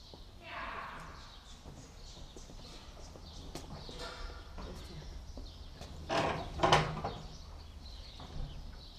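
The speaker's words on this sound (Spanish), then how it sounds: "aquí está otro, otro caballito ya de los también ya nacidos aquí en el rancho. Un caballo frisón" Hooves of a one-year-three-month-old Friesian horse clip-clop faintly on a ranch, a few soft irregular knocks under background noise and a brief louder burst near the end.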